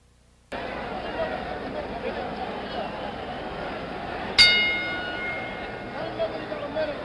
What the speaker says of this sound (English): The bell for round 11,